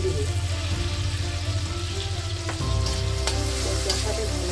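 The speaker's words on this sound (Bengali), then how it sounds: "কিছুক্ষণ চিংড়ি মাছগুলো কষিয়ে নেব।" Prawns fry in a pan with spices and are stirred, a steady close sizzle with scraping stirs throughout, no voices.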